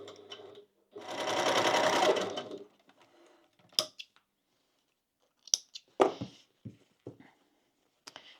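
A sewing machine stitches across a zipper and fabric for a crossbody bag, running in one steady, close burst of about two seconds, followed by scattered clicks and handling knocks.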